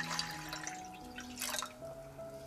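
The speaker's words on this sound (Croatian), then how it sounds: "Malo ću dodati i vode." Water poured into a pot of tomato soup with dumplings, a faint short trickling and splashing pour, quiet and close.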